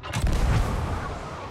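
A ship's cannon in the pirate game Sea of Thieves fires once, launching a player across the water: one deep, close boom that rolls into a fading rumble, with no voices.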